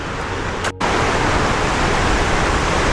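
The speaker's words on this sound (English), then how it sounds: "listen to those waves crashing" A steady, loud roar of surf crashing below Sicilian cliffs fills the air without a break except for one brief dip, with no voices.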